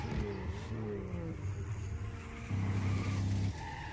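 A self-driving car in an anime, with a steady engine hum and tyre noise that rises into a louder, sustained tone, heard over a background soundtrack.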